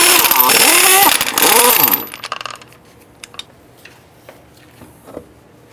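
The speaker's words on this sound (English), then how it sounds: "we're going to go ahead and remove the wheel." A wheel on a 2005-2010 Jeep Grand Cherokee is removed with a 3/4 inch socket and power tool: a loud, close whirring burst for about two seconds, followed by quieter metallic clicks and clinks.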